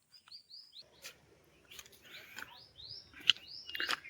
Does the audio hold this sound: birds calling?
yes